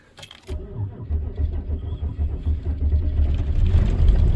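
A truck engine cranks briefly and then catches on a cold, snowy winter morning, settling into a loud, rough idle that grows steadily louder.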